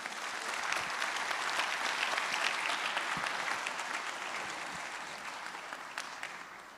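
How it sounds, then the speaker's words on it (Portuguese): An audience at a drone employment workshop applauds the panel speakers, a full burst of clapping that swells early, then slowly tapers while staying fairly even throughout. "pediria a todos mais uma vez uma salva de palmas para os nossos palestrantes"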